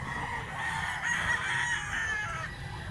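A black-legged gamecock rooster crows once, a loud, close, drawn-out call outdoors with no other sounds over it.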